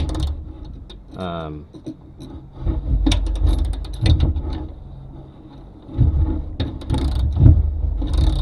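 A ratchet wrench tightens the mounting bolt of a Fox 2.0 performance shock inside a vehicle's carpeted fender liner, giving bursts of rapid close clicking with pauses between strokes and some background handling noise.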